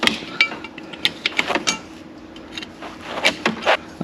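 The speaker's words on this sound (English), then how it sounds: "So I am going to break this loose and get this distributor out of here." A homemade distributor wrench works on a small block Chevy distributor with sharp metallic clicks and clanks in irregular bursts, close up with quiet gaps between.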